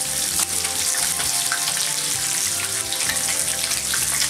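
Marinated salmon fillets sizzling in a griddle pan, a loud, dense, continuous frying hiss that stays steady throughout, close up and without speech.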